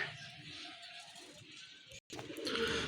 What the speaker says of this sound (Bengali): খুবই চমৎকার একজোড়া কবুতর